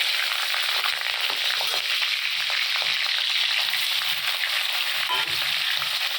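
Paneer pieces fry gently in hot white oil with a dense, constant crackle and sizzle close by. The sound stays steady throughout, with light stirring scrapes now and then.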